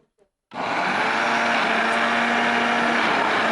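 After a moment of near silence, a blender switches on and runs with a loud, steady whirring roar until the end.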